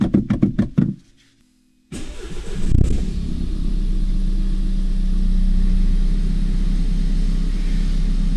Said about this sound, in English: So let's start the car.